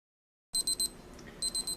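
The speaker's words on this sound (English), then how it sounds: "That's my timer saying this has been sterilizing for about a half hour." A kitchen timer beeps during a steam sterilizing run, two bursts of three or four sharp electronic beeps separated by a short pause, close and clear over quiet room noise.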